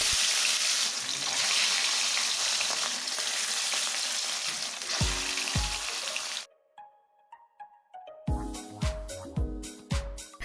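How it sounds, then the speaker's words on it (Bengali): Pieces of rohu fish fry in hot oil in a wok with a dense, steady crackling sizzle that stops abruptly, followed by sharp knocks and clatter. "তেল গরম হয়ে গেলে মাছের পিসগুলি এক এক করে দিয়ে ভেজে নেব"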